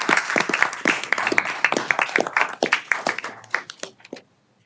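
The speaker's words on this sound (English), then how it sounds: "Big round of applause." An audience at a state board meeting breaks into loud, dense applause with many hands clapping, which thins out and fades to silence after about four seconds.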